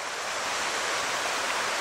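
Creek water flows steadily at Rock Run Historic Area in Susquehanna State Park, Maryland, a continuous broadband rush without speech.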